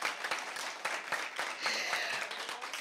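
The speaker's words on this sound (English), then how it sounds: "both teams deserve a bigger round of applause" Audience applause for debate teams at a competition round, a lighter, thinner patter of individual claps with uneven swells, moderately close and somewhat quieter than a full ovation.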